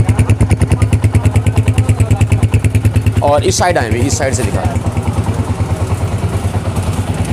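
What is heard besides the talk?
Honda CG125 motorcycle engine running, silencer sound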